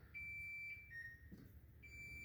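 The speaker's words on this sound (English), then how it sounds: "So as it's beeping right now" Thin electronic beeps from a Samsung refrigerator control panel sound in short tones at a couple of pitches, fairly quiet over a low background hum, with the freezer and refrigerator defrosting.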